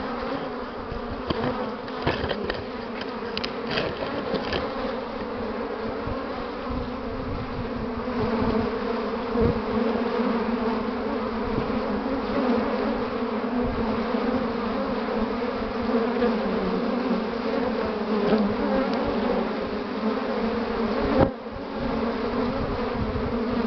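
A dense, continuous buzzing of many aggressive bees working willow blossoms, close by and steady throughout, with no other sounds breaking through.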